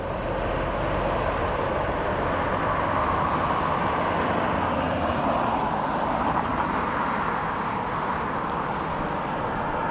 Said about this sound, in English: Aer Lingus A320 in from Madrid.